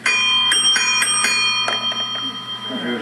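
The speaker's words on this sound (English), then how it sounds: "Here's one from Taiwan. 2 bells cupped together like this, so it has kind of a chiming like effect." A Taiwanese double bell, two bells cupped together, rings out in several bright, sustained chimes with long overlapping resonance, struck repeatedly at close range as the tones slowly fade.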